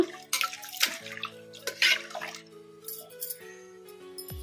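Toor dal lentils are swished and rubbed by hand in water, giving close, irregular sloshing splashes and wet clinks against the vessel, with quieter gaps in between and no voices.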